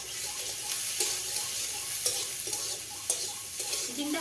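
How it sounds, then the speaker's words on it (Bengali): Snake gourd fries in hot oil with a constant bright sizzle, punctuated by regular sharp taps and scrapes of a spatula against the pan, close up and without speech. "এবার তেলের উপরে আমি ওই চিচিংটা দিয়ে দেবো।"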